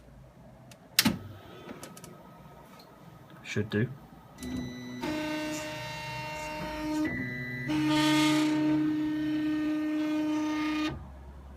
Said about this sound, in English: If you power up now, the printer will reset its head back to the normal position